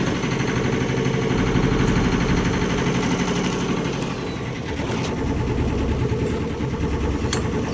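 A 1981 Hunter 30ft sailboat's inboard engine runs steadily with a loud, close, dense mechanical drone, the tone shifting slightly as the gearbox is moved through forward, neutral and reverse, with a faint clunk near the gear change.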